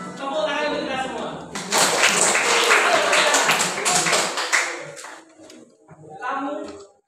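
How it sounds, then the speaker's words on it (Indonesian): A classroom group bursts into a few seconds of dense, steady clapping that fades out, with a teacher's voice speaking before and after. "Tepuk tangan untuk kita semua"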